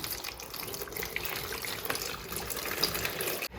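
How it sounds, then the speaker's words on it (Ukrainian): Settled water is poured into a basin holding an orchid, a steady close splashing gush that runs for the whole stretch with no talking. "в таз лью воду, ця водичка в мене відстояна."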